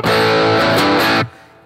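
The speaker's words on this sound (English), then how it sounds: "you can hear the guitar takes wonderfully to dirt" A crunchy overdriven Rickenbacker 330 electric guitar plays a short run of bright, distinct notes, then cuts off and fades quickly.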